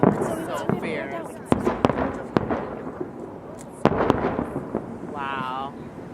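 Chinese New Year fireworks in New York City crack and bang in sharp, irregular bursts, several loud reports close by, as people chatter and cheer in the crowd.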